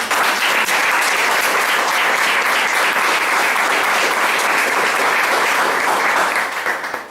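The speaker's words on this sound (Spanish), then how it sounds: "Dale un aplauso al Señor." Church congregation bursts into applause during a Spanish-language service, a loud, dense and continuous clapping that carries for several seconds before tapering off.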